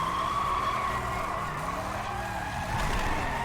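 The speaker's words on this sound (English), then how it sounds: "she's just power sliding her way around the mountain" A car power slides around a mountain road in the Need for Speed Carbon video game, its tires squealing steadily over the engine's drone for several seconds, loud and close.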